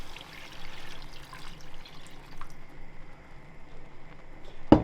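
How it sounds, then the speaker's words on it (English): Water pours into a cooking pot of tomatoes on a canal boat stove, a steady close gurgling stream that trickles and slows before a sharp knock at the end. "pour your water in."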